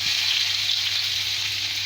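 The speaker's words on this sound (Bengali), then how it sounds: "পেঁয়াজটা একটু লাল লাল করে ভেজে নেব" Chopped onions frying in hot oil with cinnamon, cardamom and whole cumin, giving a steady, loud sizzle that runs on its own without any talk.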